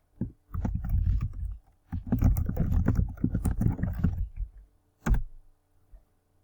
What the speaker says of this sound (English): you can click and you can type your message here